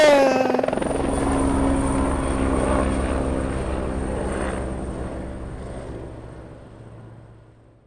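A loud helicopter roars close by, rotor and engine droning steadily, then gradually fading as it moves away.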